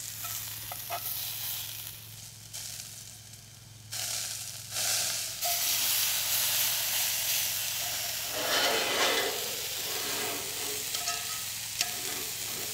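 A beef steak sears on a hot grill, with a loud, steady sizzle and hiss that swells and holds, spitting close by with no one talking.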